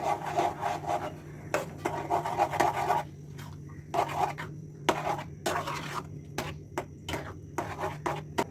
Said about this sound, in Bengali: এবার একটু অনবরত নাড়তে থাকবো